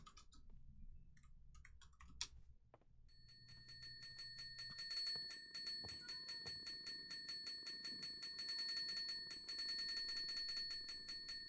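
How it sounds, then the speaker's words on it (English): A bell in the video game Minecraft rings in rapid, bright repeated strikes that start after a few seconds of quiet clicks and keep going steadily to the end. "Let me ring the bell again."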